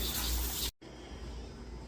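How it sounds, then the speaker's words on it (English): Cold tap water sprays over homemade Hawaiian sausages in a loud, broad rush, then cuts off abruptly, leaving a quiet room tone. "Same process, just shower them in cold water."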